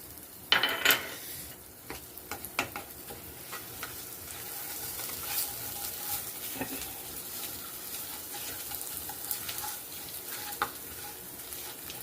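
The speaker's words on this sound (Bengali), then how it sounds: "আমার আদা বাটাটা দিয়ে দিই" Ginger paste sizzles steadily in a hot pan while a utensil stirs and scrapes through it, with a few sharper clinks near the start and continuous frying throughout, close and moderately loud.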